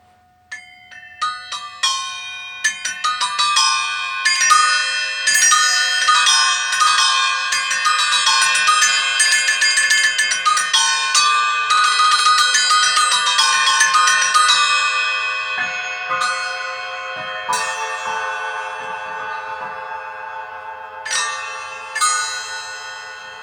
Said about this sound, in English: I've got the 5 cup chimes in the middle here.